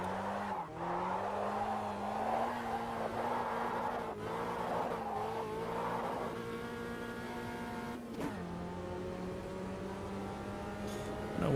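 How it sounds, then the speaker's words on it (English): A race car in a sim racing game leaves the garage warming its tyres, its engine note holding a steady drone and rising through gear changes with a revving whine, joined by tyre squeal, loud and close. "Warm the tyres up coming out of the garage."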